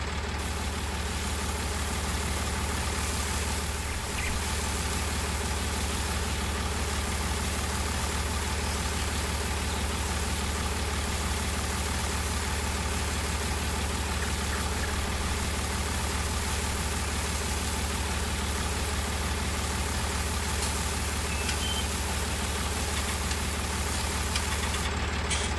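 A tractor engine idles steadily in the Farming Simulator 19 video game, a constant loud low drone with no change in rhythm and no talk.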